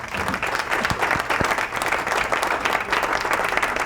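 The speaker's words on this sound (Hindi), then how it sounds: "तालियां हो जाए" Studio audience at a Ramzan Islamic quiz show applauds a correct answer, a steady, full wash of many hands clapping at moderate loudness, with a few sharper close claps early on.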